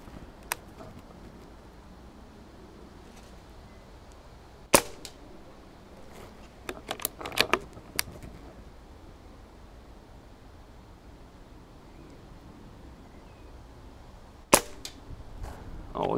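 Umarex Hämmerli 850 AirMagnum air rifle firing outdoors, with a few sharp, isolated cracks spaced several seconds apart against a low steady background hiss.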